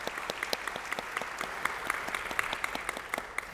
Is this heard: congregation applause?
yes